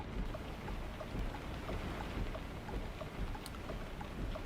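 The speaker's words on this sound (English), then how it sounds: "Braking in the rain." Steady rain patters on a truck while driving in American Truck Simulator in Illinois, a dense continuous hiss with scattered drops, a faint rumble underneath and no voices.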